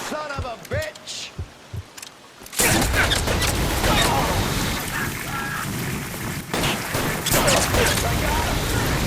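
Gunfire in the crime video game LA Noire: a quiet stretch of spoken dialogue gives way to a loud, dense volley of shots and impacts that continues for several seconds.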